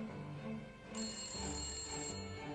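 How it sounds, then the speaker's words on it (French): A telephone rings with a steady electronic bell tone, loud and close, sounding continuously for a couple of seconds over a soft background. "11 heures du soir, le téléphone sonne."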